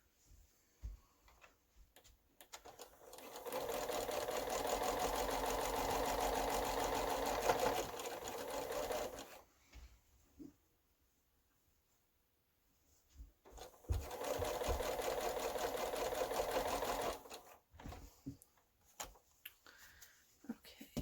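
A sewing machine stitches quilt block pieces for a 4.5 inch square in two long runs of steady, rapid whirring, each several seconds, separated by a quiet pause with small handling clicks.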